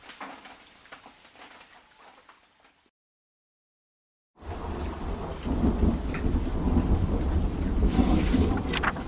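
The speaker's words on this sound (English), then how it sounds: "These past days of non-stop rain feel like 10 years." Heavy typhoon rain pours down with deep thunder rumbling, quiet at first, then a brief dead silence before a loud, dense downpour roars in close and steady.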